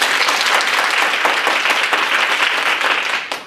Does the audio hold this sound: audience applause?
yes